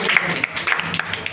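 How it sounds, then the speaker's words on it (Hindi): An audience claps for a group of village children after a poem recitation, with steady scattered hand claps that are moderately loud over a brief murmur. "ताली बजाइए इनके लिए"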